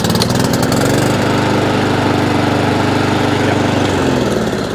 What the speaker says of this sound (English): Honda IZY 19-inch lawnmower, all now up and running